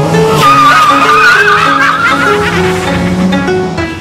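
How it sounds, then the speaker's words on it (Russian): Car engines roar and tires skid at a figure driving competition on Lenin Square during a Youth Day event. The loud, continuous engine drone shifts in pitch, with squealing slides throughout. "Рев моторов, крутые повороты и заносы"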